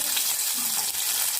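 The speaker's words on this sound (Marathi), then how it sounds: "1-2 मिनिटं पॅन मध्ये मिरच्या भाजून घेऊया।" Red chillies and dry coconut roast in a pan, giving a soft, continuous hiss and crackle of dry sizzling with faint scraping, steady and fairly quiet, with no voices.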